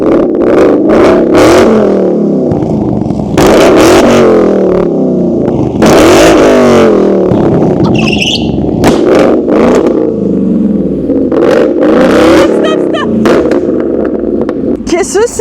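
A Ford Mustang engine revs hard and backfires flames in loud, close bursts of exhaust crackle and pops, with people talking and exclaiming over the noise throughout.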